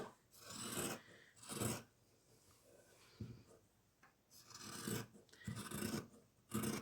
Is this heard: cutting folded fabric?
yes